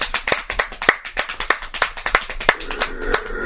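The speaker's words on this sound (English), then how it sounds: "Why are you clapping?" Hands clap in a steady, fairly quick rhythm, sharp and close, a couple of dozen claps with no speech.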